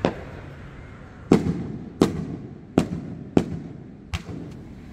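Fireworks bursting at night near Lake Onuma in Hokkaido, six sharp booms spaced roughly every second, each with a short rumbling tail, fairly distant and echoing over a low steady background.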